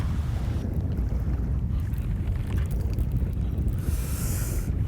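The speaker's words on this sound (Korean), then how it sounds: "아 바람 보세요 바람" Strong wind buffets a fishing boat on open water, a loud, constant rumbling roar of gusts against the microphone throughout, with no voices.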